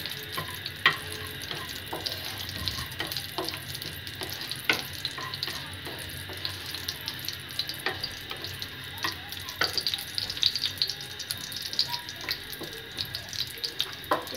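Bay leaves, two pieces of cinnamon and cardamom frying in hot ghee over a medium flame, giving a steady close sizzle with scattered small pops and crackles throughout.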